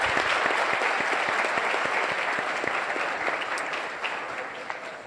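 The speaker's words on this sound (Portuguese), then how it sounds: "Por favor, uma salva de palmas para os nossos panelistas." An audience applauds panelists at the close of a round-table session in a hall, a dense, steady wash of clapping that slowly fades over several seconds.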